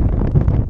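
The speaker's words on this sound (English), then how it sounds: "You probably can't hear us for the wind, it's quite windy." Wind buffets a microphone on the summit of Barrow, a Lake District hilltop, a loud low rumbling roar filling a brief moment without speech.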